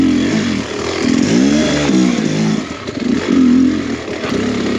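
A Beta X Trainer dirt bike engine revving nearby, loud and continuous with rising and falling throttle sweeps and a rough, buzzy two-stroke tone throughout.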